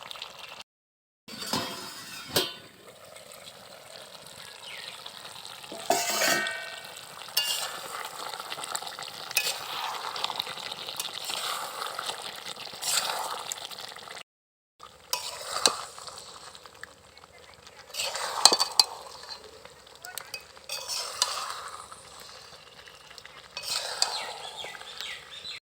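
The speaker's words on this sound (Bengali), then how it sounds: "নেড়েচেড়ে দিচ্ছি।" Duck meat curry gets stirred in a pan with a metal spoon, giving intermittent scraping and clinking over a soft sizzle, with a couple of brief pauses and a voice talking quietly in places.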